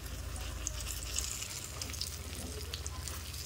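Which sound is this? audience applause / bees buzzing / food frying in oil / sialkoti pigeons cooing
food frying in oil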